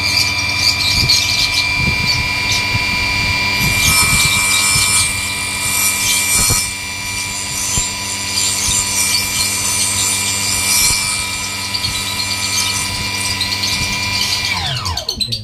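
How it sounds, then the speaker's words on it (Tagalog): A power tool cuts through a part while a butane gas check valve is being made, a loud continuous high-pitched whine with rough grinding bursts that runs throughout and then spins down at the end. "Kailangan po kasi dahan-dahan lang po yung pagkakat, ano po, yung pagputol."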